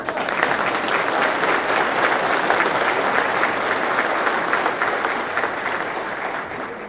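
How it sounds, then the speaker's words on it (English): An audience at a fire and rescue department awards ceremony gives a sustained round of applause, dense and even from start to finish with no talk over it. "get one more round of applause for Horton?"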